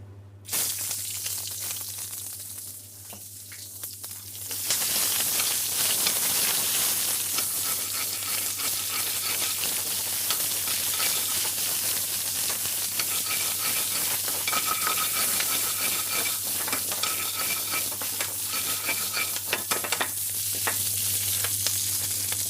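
Onions dropped into hot oil in a pan for chicken jalfrezi, a brief quiet moment giving way to a loud, steady, close sizzle that keeps going with some crackle, a low hum beneath it throughout.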